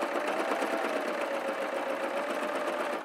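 A sewing machine runs steadily with a fast, even whir while stitching a fabric glasses case at a shortened stitch length, close and alone for about three seconds.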